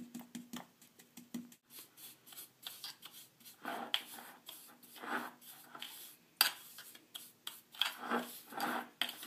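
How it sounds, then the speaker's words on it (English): Sugar is pressed and rubbed into a homemade coconut sugar scrub, making soft gritty scrapes and crunches in short uneven bursts. The sound is close and fairly quiet. "So we just pressed that final top layer of sugar in"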